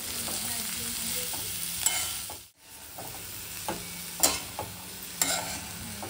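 Chilies, ginger, garlic and cashews sauté in a pan for egg curry, giving a steady low sizzle with soft stirring scrapes, a brief hush midway and a few sharper clicks toward the end.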